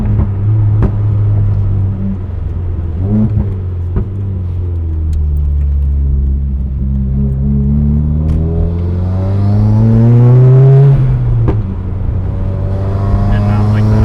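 A 2015 Subaru WRX fitted with a Grimmspeed J-pipe revs up and back down several times, a loud close engine rumble rising and falling in pitch, with a stronger climb near the end and voices talking over it.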